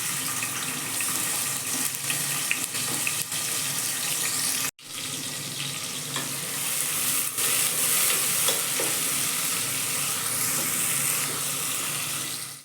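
Thinly sliced onions frying in hot oil in a cooker, a steady loud sizzle and hiss that carries on throughout, broken by one brief sharp drop partway through, with no talking.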